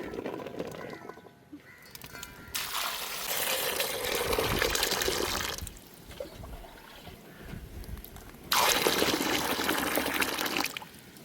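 Freshly picked wild java plums (jamun fruit) are washed in water at a village home, with sloshing and splashing that comes in two bursts separated by quieter handling sounds and no speech.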